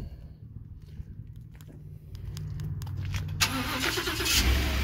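A 2015 Ford F-150 Lariat pickup with the 5.0 V8 starts by remote start: after a quiet stretch with a few faint clicks, the starter cranks and the engine catches, swelling into a loud, steady, close idle rumble with no talking.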